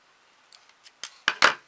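Scissors make a few quick, close snips during a plastic Christmas bauble craft, starting soft and growing sharper, ending with two crisp cuts.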